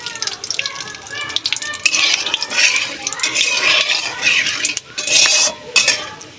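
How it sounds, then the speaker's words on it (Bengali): Whole garam masala sizzles and crackles in hot oil in a pan, a steady close frying hiss with faint scraping of a utensil. "তেলটা আমার গরম হয়ে গেছে, এখানে দিয়ে দেবো গোটা গরম মশলা।"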